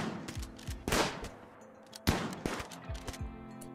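Gunfire in Rimworld: several sharp broadband shots and short bursts ring out across a few seconds, loud and close, with quieter clicks and rumbles between them and no talking.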